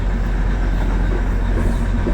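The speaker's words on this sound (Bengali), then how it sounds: "আমাদের দুজনের জন্য ট্রেন ছাড়ছে।" Darjeeling toy train running along its track, a steady rumbling drone of wheels and carriage throughout, even and continuous with no voices.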